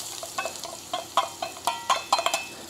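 Ginger, chili and garlic fry in oil in a pot over charcoal, a close, crackling sizzle broken by several sharp stirring clatters.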